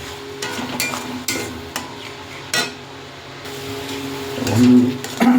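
Yogurt, cumin, Kashmiri chili and coriander spice paste stirred into lightly fried onions for a katla fish curry: scraping spoon strokes and knocks against the pan over a low sizzle, growing louder near the end.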